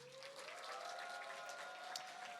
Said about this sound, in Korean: 우리 이종찬 전사님 나오실 때 큰 박수로 환영하겠습니다.